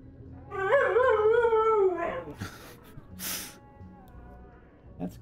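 A person imitates a dog, producing a drawn-out, whining howl-like bark that rises and falls, followed by a couple of short snorting bursts, close and fairly loud with no other talk.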